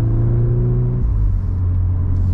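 A Volkswagen Golf R engine in race mode gives a deep, steady rumbling drone heard from inside the car, its pitch dropping abruptly partway through and then holding low and even.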